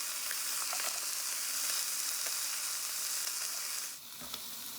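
Pork tenderloin sears in a hot pan with a steady, loud, even sizzle, with a brief dip in the hiss near the end as the meat is lifted or moved.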